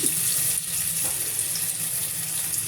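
Small onion and gram flour fritters frying in oil, a close, continuous bubbling sizzle with light stirring and no talking.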